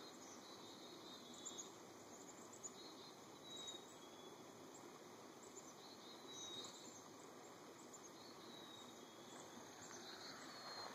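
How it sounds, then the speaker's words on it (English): Faint high bird chirps and short calls come through at intervals in a sculpture park, over a steady outdoor hiss of insects and water bubbling over a small retaining wall. "You hear the birds in the back, perhaps?"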